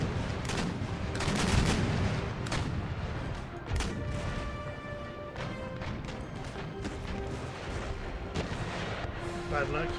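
Naval cannons on sailing warships fire chain shot in Empire: Total War, a dense barrage of overlapping booms and crashes rolling on continuously, loud and close, with no spoken voice over it.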